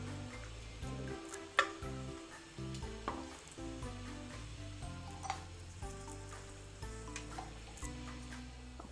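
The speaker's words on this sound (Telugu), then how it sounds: "ఒకసారి మళ్ళీ కలుపుదాము." Brinjal curry made without onion or garlic sizzles steadily in a pan while being stirred, with occasional scrapes and light knocks of the spoon, and a faint tonal drone underneath.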